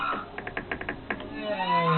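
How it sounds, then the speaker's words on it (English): Whale calls recorded underwater off Alaska: a series of short pulsed clicks and grunts, then long rising and falling tonal moans at the end, moderately faint against a hissy ocean background. "What you're hearing are the calls of various whale species recorded in Alaska."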